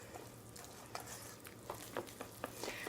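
Wire whisk stirring buttermilk cornbread batter in a bowl, soft scraping taps at an uneven pace, close but faint, with no one speaking.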